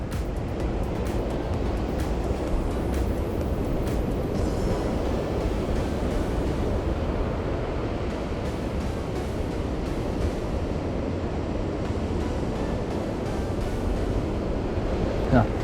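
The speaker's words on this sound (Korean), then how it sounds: "파도가 너울이 엄청 강력합니다" Strong ocean waves and heavy swell crash against a rocky coastal shore near Gyeongju, a constant loud roar of surf mixed with wind buffeting the microphone throughout.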